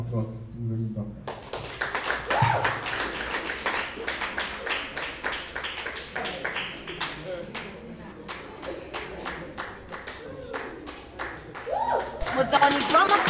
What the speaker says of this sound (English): let's give a warm round of applause to Muthoni Ndonga